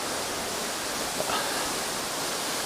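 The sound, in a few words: waterfall water flowing down from a cave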